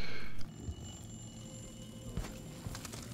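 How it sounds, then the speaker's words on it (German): An alarm clock rings in the video game Dishonored 2, a steady high electronic tone over a low mechanical rattle, with game ambience underneath. "Ah, der Wecker klingelt."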